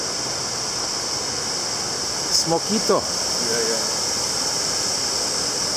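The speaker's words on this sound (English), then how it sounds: "Tad Huang, international waterfall." Tad Huang waterfall on the Thailand–Laos border in Loei, a steady broadband rush of falling water filling the whole clip, with brief voices and a short whistle-like sound midway.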